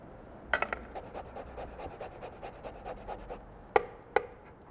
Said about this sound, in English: the garlic and the ginger I'm going to break down on the microplane so it just melts right into the sauce